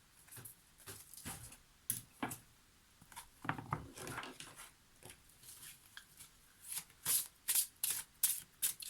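Oracle cards from a forest-spirits deck being shuffled and drawn, a run of crisp papery riffles and flicks that come in uneven bursts, growing denser and louder toward the end with no voices.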